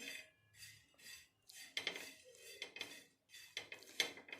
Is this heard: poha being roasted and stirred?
yes